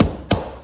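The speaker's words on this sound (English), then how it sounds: "I'm gonna tap the joint." A mallet knocks a basement floor panel joint into place with two distinct sharp taps, close and fairly loud, the second following a quarter second after the first.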